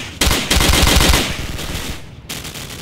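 Call of Duty gunfire bursts in a loud close rapid automatic rattle that runs for about two seconds, breaks off, then resumes with another shot.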